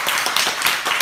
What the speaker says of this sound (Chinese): 所以我真的会让我们给班长一个掌声